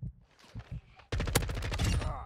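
Gunfire in the Call of Duty DMZ video game starts as a few scattered shots, then breaks into a loud, sustained burst of rapid automatic fire that fills the rest of the moment.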